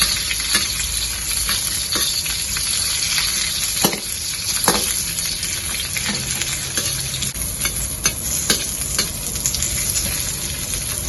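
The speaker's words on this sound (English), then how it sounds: "Fry until you can smell the flavor from the capsicum." Capsicum frying in oil over the lowest flame, a steady close hiss with scattered crackles and the odd scrape of stirring, with no talking.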